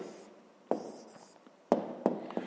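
A pen writes out an answer to a fifth-grade maths exercise on paper, close and quiet, with scratchy strokes broken by a few sharp taps and pauses.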